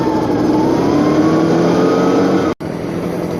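An Echo leaf blower roars loudly and steadily at close range while blowing pine needles and pine cones, its engine note holding nearly constant with one brief dropout.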